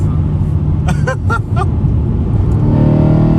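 A BMW E92 M3 with a loud exhaust rumbles steadily and deeply from inside the car, with a brief burst of chirping noise early on and the engine note swelling toward the end.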